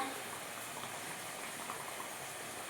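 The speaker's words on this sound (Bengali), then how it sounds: "আস্তে আস্তে ঝোলটা এটা মাছ ঝোলটা ফুটছে" Fish curry broth simmering in a covered pot gives a faint, soft, continuous bubbling burble, heard quietly at a distance with no talking.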